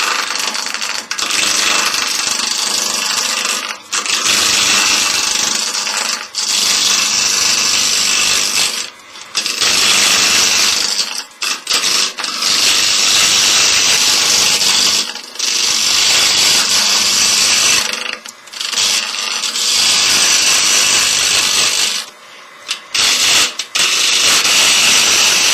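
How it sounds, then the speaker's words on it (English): Wood lathe spinning a vase blank while a worn bowl gouge cuts it, producing a loud continuous rough scraping roar that breaks off in short pauses between passes. "To do that, I'm just going to use a wore out bowl gouge."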